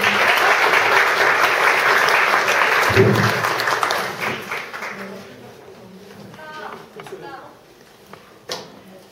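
Loud audience applause fills a hall at a Korean life-school storytelling event. It is dense at first, then thins and fades over several seconds into scattered claps and faint murmurs.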